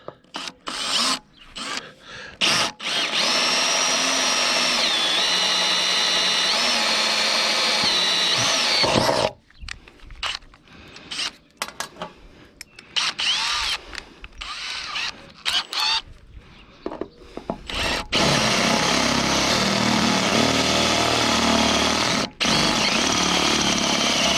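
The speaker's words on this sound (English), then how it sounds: "Now, get a hole drilled." A power drill bores a 3/8 inch hole in a camper wall to mount a 60-inch LED taillight, whirring loudly in several sustained bursts with short pauses and stops between them.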